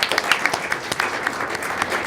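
Audience applause fills a school board of education meeting room, a steady patter of many hands clapping at moderate distance, brief and fairly even with a few sharper claps standing out.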